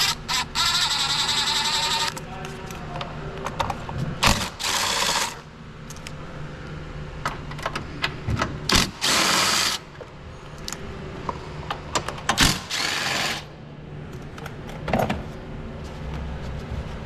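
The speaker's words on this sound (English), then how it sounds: "Then we're gonna use 10 mil to remove this filter housing." 10 mm ratchet loosening a filter housing on a 2020 Kia Soul, close clicking and metallic clinks with several short bursts of rapid ratcheting among scattered knocks and handling noise.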